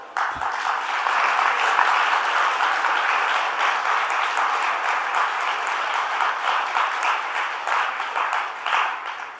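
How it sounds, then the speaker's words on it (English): A large audience applauds at an international yoga festival, sustained dense clapping rolling evenly for about nine seconds with a slight swell early on. "to give her also a big clap."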